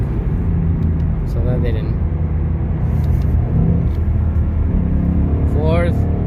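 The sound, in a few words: Ford Mustang GT 5.0 engine while shifting gears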